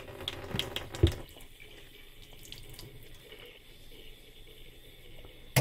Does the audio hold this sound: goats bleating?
no